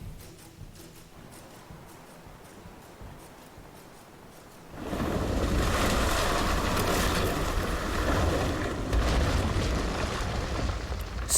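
A sailing ship surges through ocean waves in Assassin's Creed Rogue; after a quieter stretch, a loud broad rush of water and wind swells in and holds steady, with occasional heavier sloshes.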